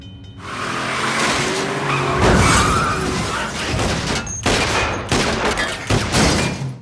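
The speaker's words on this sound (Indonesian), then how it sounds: "mobilnya melaju dengan kencang dan menabrak mobil Frank" A speeding car skids and slams into another car: a loud, continuous engine roar and tire screech, with sharp impact bangs and crunches clustered in the last few seconds. No one speaks.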